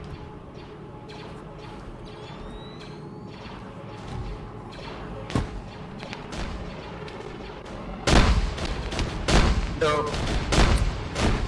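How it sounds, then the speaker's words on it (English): Heavy cannon fire from a Venator starship in a video game, booming shots and crackling bursts that grow dense and loud in the final seconds, with a brief spoken word early on. "The Venator was shooting at the Tri-fighters."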